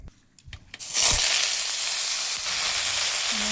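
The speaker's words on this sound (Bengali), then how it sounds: "এই তেলের মধ্যে শাকগুলো ভেজে নেবো।" Mustard greens dropped into hot oil after fried garlic and dried red chillies, a few clinks and then a sudden loud sizzle that settles into a steady close hiss.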